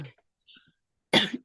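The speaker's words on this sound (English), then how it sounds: "If you make me get in a coughing fit, it's going to be your fault." A sharp cough from a person at home, one brief burst near the end followed by the start of another, after faint quiet sounds.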